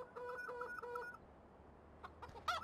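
Chickens cluck in the farm video game Farming Simulator 2015, a run of short rhythmic clucks followed by a pause and then sharper, higher squawks near the end, fairly faint with no talk.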